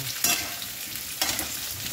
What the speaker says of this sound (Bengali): এই কাঁঠালটা ঢেলে দিচ্ছি